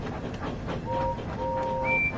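A steam engine pulling an express train into a station, a low rumbling chug with brief, clear whistle tones sounding over it, moderately faint.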